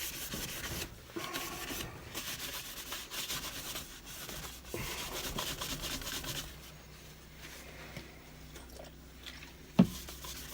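A cloth rubs methylated spirits over a finished turned wooden bowl with a winged rim, a steady close scrubbing swish that runs almost unbroken, with one sharp knock near the end.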